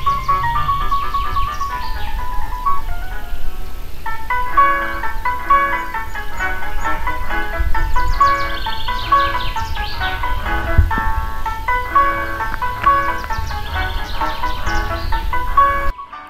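Music with a bright melodic tune plays loud and continuous throughout, heard outdoors on an early-morning hike.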